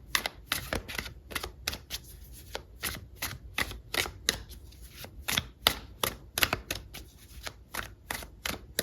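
Tarot cards shuffled and drawn from the deck, a steady run of sharp, close riffling flicks and slaps repeating every fraction of a second, with no speech.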